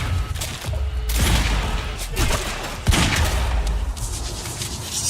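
Gunfire in the shooter video game Quantum Break: several loud heavy-pistol shots crack out in sequence amid ongoing in-game combat noise, each with a sharp punchy onset.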